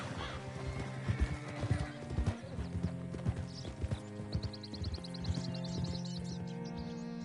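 Hooves clip-clop in an uneven trotting rhythm in Red Dead Redemption 2 on PS5, with a horse whinnying and snorting amid game music and ambient tones.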